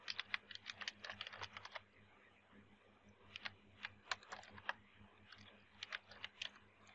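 Quick, irregular bursts of computer keyboard typing, close and fairly quiet, while a new Android project for a toggle button is set up. Several dense flurries of keystrokes are separated by short pauses over a low steady hum.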